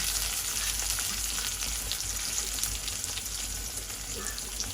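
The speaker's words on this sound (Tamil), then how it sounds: "பச்சை மிளகாய் எல்லாம் போட்டு நல்லா வதக்கம் வதக்கிடலாம்" Onion, curry leaves and green chilli sautéing in a pan give a steady, close sizzle with faint crackle throughout, no talking.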